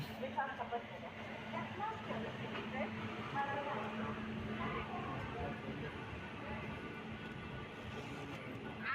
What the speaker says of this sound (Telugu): ప్లాట్ఫామ్ నెంబర్ త్రీకి వస్తుంది మన ట్రైన్